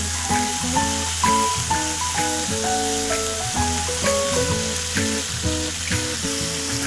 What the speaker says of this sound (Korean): 노릇노릇하게 지금 잘 구워지고 있고요.